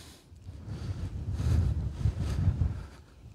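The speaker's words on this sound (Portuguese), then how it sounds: "Está ventando bastante aqui" Gusty wind buffets the microphone in low rumbling surges near Forte Orange on Itamaracá island, Pernambuco, rising and falling over a few seconds, with no voices.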